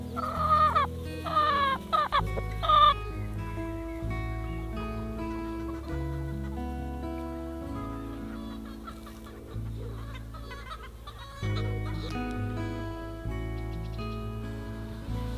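Chickens cluck in a lively, uneven run of short calls near the start, then call more sparsely against a steady, tonal background for the rest of the stretch.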